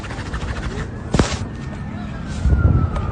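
Emergency vehicle sirens wail faintly in the distance amid strong wind and fire, with a thin wavering tone drifting beneath heavy wind rumble and a sharp thump partway through.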